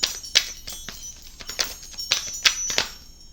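Tarot cards shuffled by hand, a run of sharp, crisp riffling snaps and slaps at an uneven quick rhythm, close and clear with no talk.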